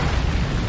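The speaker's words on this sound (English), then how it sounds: "So here comes an orbital bombardment" An orbital bombardment strike in the strategy video game Dawn of War 2 lands as a dense, rumbling explosion, a loud sustained low roar with no speech over it.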